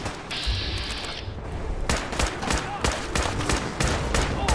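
Rapid bursts of combat rifle gunfire in Fallout 4 Far Harbor, loud and close, cracking out in uneven volleys over a dense battle din.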